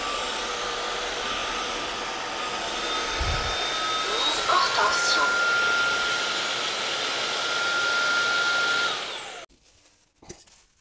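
An Ultenic AC1 Elite wet-dry vacuum cleaner whines at high pitch as it runs, its tone shifting as the suction power adjusts, then cuts off abruptly near the end, leaving a few faint knocks.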